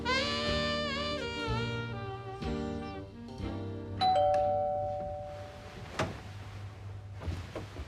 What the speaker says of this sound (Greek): Τι ήταν αυτό? Κουδούνι.